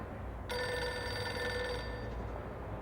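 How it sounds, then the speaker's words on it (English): A telephone rings in the video game Reverse: 1999, one sustained electronic bell ring that starts abruptly and fades out, heard alone at a modest level. "Pick up the phone already."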